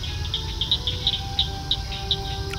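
Outdoors at sunset in the evening, insects and birds sound together: a steady high cricket-like trill carries on while short repeated chirps pop out every third of a second or so, soft and moderately distant.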